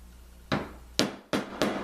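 A hammer taps a T-nut into a re-drilled hole in a wooden table leg: four sharp, close knocks at uneven intervals, each with a short ringing decay, with no talking.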